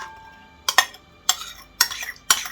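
Hot mushrooms tipped into a pot of marinade make a series of four distinct clattering, splashing bursts of metal utensil against pot, close and fairly loud.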